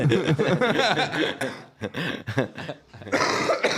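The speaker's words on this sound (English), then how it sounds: "That's a healthy cough I got all of a sudden." A few harsh coughs and throat-clearing bursts, close and fairly loud, broken by short pauses and a brief chuckle.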